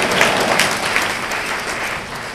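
An audience at a church teaching session claps, producing a steady wash of applause at moderate loudness that continues for a couple of seconds.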